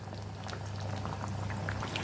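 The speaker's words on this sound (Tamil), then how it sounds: "குழம்பு நல்லா கொதிக்கட்டும்." Curry simmering in a pot for a vegetarian fish curry, a steady close bubbling under a constant low hum, with small pops scattered across the clip.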